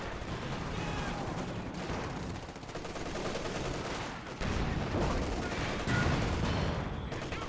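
Dense, continuous battle noise from an artillery barrage and gunfire in a competitive video game match fills the whole stretch with layered booms and rapid shots, loud and unbroken. A commentator talks over it.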